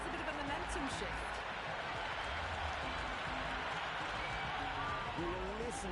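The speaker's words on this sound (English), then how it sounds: "Will you listen to that crowd? They are loving this." A stadium crowd roars and applauds continuously during a T20 cricket match between India and Zimbabwe in the Cricket 26 video game, a dense steady wash of noise with faint commentary beneath.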